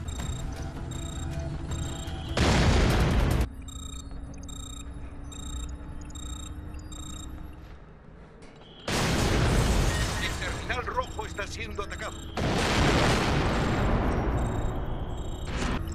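Grenades burst in a Splinter Cell: Double Agent co-op match, three loud, heavy blasts spaced apart over a low background of game ambience and a voice speaking.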